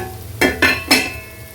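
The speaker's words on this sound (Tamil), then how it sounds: "கிளறி விட்டுடலாம்" Spoon stirring soya chunk fry in a pan at home, three short scraping bursts over a low steady sizzle, fairly close and moderately loud, no talking.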